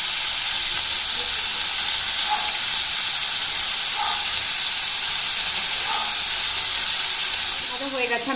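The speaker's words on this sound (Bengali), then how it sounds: "তেলটা গরম হয়ে গেছে, এবার মাছগুলো দিয়ে দেবো।" Fish fry in hot oil, a loud, continuous sizzle and hiss that fills the whole stretch, with a few faint clinks of a utensil.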